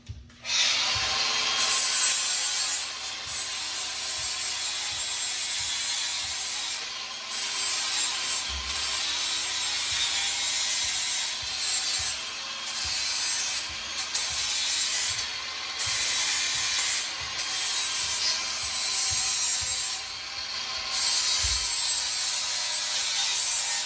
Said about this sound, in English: Then I'm going to sand this up here so that I can weld on that and get that bottom cleaned up.